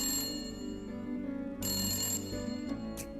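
A telephone rings on and on without being answered, a loud, steady electronic ring tone repeating in close pulses with nothing else heard.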